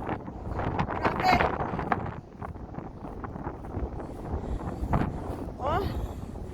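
Cold wind gusting outdoors on a rural walk to fetch cows, buffeting the microphone in uneven rushes with a person talking intermittently over it.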